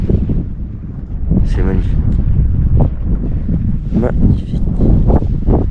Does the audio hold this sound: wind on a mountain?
yes